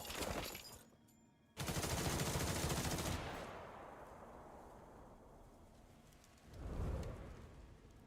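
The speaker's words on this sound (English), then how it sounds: "All units, ready your arms. Fire!" Massed gunfire from units shooting in the video game Duet Night Abyss: a dense, loud burst of rapid shots that swells and then fades into a rumbling tail, followed by a later thudding surge.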